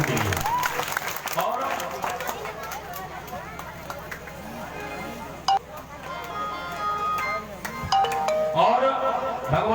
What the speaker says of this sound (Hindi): जोरदार तालियां डोंगरा के सभी युवाओं के लिए